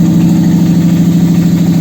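A Toyota 1ZZ-FE engine from a Vista Ardeo ZZV50, hooked up to its cooling system, runs at a steady idle with an even, loud, droning hum and no voices.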